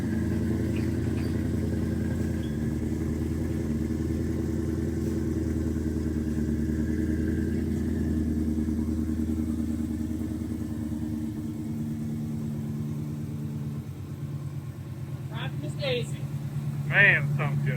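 A Fox Body Mustang with a GT500 engine swap and Ford Racing Power Pack idles on its out-of-box tune, a close, steady, rough-edged V8 rumble that settles slightly lower, with people talking over it near the end.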